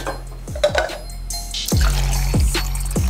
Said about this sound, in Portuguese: Já vou pegar água que eu sempre esqueço